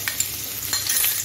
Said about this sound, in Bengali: এখন আমি রসুন কুচিটা দিয়ে দিচ্ছি